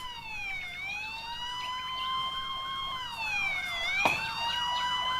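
Wailing emergency sirens from a large neighborhood fire, rising and falling in pitch, several overlapping, fairly loud and steady with traffic noise beneath.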